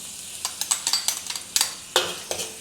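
Garlic, ginger and the white parts of green onion sautéing in oil in a wok over low heat, with a soft sizzle and a quick series of scraping, clinking stirs from a utensil.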